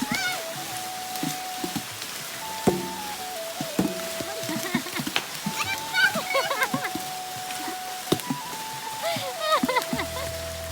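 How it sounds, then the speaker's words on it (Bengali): Mangoes drop into a pond with scattered splashes and thuds at irregular intervals, while people talk and call out throughout. "বৃষ্টির পানির মতো আম পুকুরে পড়ছে, ঠাস ঠাস ঠাস ঠাস।"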